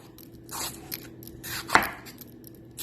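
A knife chops onions for a salad on a cutting board in a home kitchen, with a few sharp, close knocks spaced out over quiet background noise.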